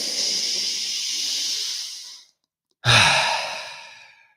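A long, deep breath during a recovery-focused breathwork exercise for mountain athletes: a steady airy inhale or exhale, then a short silence, then a forceful hissing exhale that fades out, close and alone.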